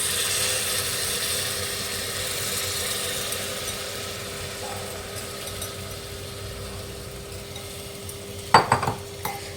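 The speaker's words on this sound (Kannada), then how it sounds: "ಸೊ ಇವಾಗ ನಾನು ರೈಸನ್ನು ಹಾಕ್ಕೊಳ್ತಾ ಇದ್ದೀನಿ." Rice is tipped into a pan and stirred while vegetable biryani cooks, giving a steady frying hiss and the scrape of a spoon, then a sudden clatter of metal on the pan near the end.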